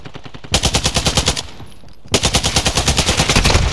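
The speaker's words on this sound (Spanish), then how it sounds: "Le dispara aquí mi. Ojo, macho, le dispara a quemar ropa y no mueren" Rapid automatic gunfire from the video game Call of Duty Modern Warfare 2, two loud sustained bursts of evenly spaced shots separated by a short pause, with no voices.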